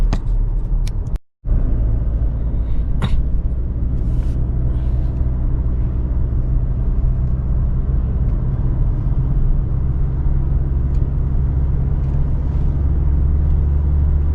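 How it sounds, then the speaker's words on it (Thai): A car descends a steep, hairpin-curved mountain road at Doi Khun Sathan in Nan, heard as a continuous low engine and road rumble from inside the vehicle with a few brief knocks and one short dropout. "บรรยากาศการลงเขานะครับที่ดอยกุลสถานดวนนาน โค้งหักศอก"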